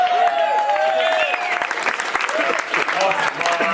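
At a startup pitch event, a crowd claps loudly and continuously for a team's matching outfits, with cheers and shouted voices layered over the steady applause.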